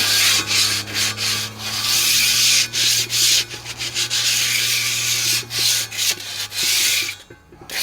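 Hand sanding of cleaned-up wheels with 220 grit sandpaper to take off sharp edges, a close, rhythmic rubbing stroke repeated many times over a faint steady hum, with no talking.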